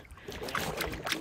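A canoe paddle dips and swirls through lake water in the early morning on a chain of lakes, a brief, faint splashing stroke with light wind.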